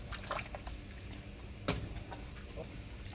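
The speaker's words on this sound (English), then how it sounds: "Just added a little water." A little water is added to a pot of egusi soup, giving a soft, steady splashing and trickling with a few brief drip-like sparkles, fairly quiet and heard alone.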